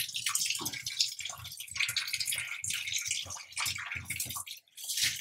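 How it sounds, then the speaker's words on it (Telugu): Water splashes and sloshes in uneven bursts as goat tripe (boti) is rubbed and rinsed by hand in cold water in a basin, close by, with no talk. "ఇక్కడ మనం మంచిగా చల్లటి వాటర్ తోటి కడుక్కొని మళ్ళీ గరం వాటర్లో వేస్తే"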